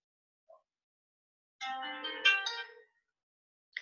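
A phone ringtone plays once as an outgoing call is placed, a short clean melodic burst of about a second after silence, followed by a faint click.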